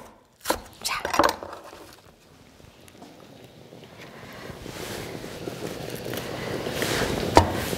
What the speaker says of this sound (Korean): 파를 어슷 굵직굵직 어슷하게 썰어서 시원한 맛을 좀 주기로 하죠.